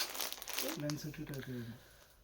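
Plastic cover crinkling as a tissue Paithani saree is handled in a Hyderabad saree shop, a dry rustle through most of the stretch with a short voice sounding over the middle.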